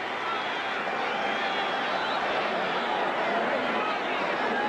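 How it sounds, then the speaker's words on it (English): A dense, steady roar of a large football stadium crowd applauding and cheering during a 1984 Cowboys–Redskins game fills the whole span evenly. A broadcast commentator talks over it. "You hear the applause and the crowd standing in tribute to Riggins."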